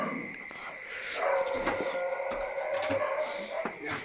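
Dogs bark late at night outside a house near Kolhapur as travellers arrive, a run of moderately loud barks and yips, with voices talking over them.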